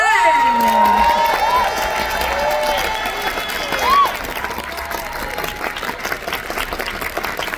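Concert crowd at the Francofolies 2025 festival, during a show, applauding and cheering: dense, sustained clapping with shouts and whistles, loud and steady throughout, easing slightly toward the end.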